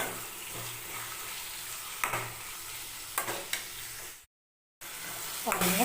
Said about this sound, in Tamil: தக்காளி பழம் சேர்த்துக்க போகிறோம்